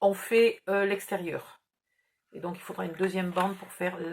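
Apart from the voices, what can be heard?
No distinct noise like a dog, phone or traffic.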